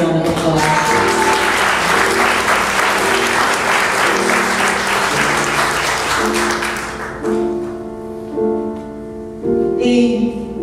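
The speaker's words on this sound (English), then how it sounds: "Give her a round of applause" Applause from an audience at a live concert by a singer, a loud, dense crowd clapping over sustained music that then tapers off as the band plays on.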